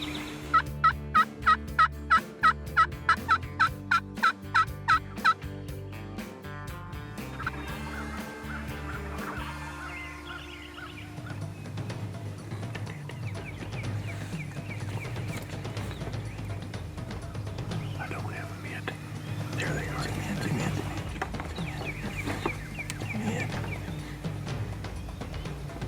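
Wild turkeys gobble in a rapid, loud burst at the start, then hens cluck and yelp continuously through the rest, a busy flock close by outdoors.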